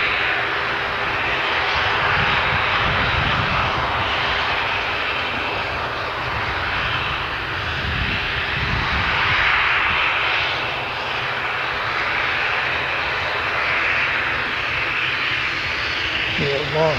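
An ATR turboprop airliner bound for Invercargill hums steadily at close range, a sustained droning engine tone lasting throughout with faint voices underneath.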